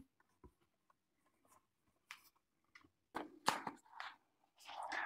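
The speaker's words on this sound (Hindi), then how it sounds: "तो मैं एक बार वो फॉर्मूला लिख देती हूँ यहाँ पे।" A chemistry formula for ionisation enthalpy of a weak acid handwritten on paper: intermittent soft scratchy pen strokes, quiet and close, coming in short irregular bursts with brief pauses between.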